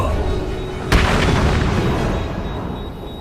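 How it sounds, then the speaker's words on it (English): A smoke grenade goes off in the Batman: Arkham City video game, a single sharp boom about a second in that dissolves into a long, dense hiss of rushing smoke and rumble, filling the scene at steady loudness. "He's used some kind of grenade."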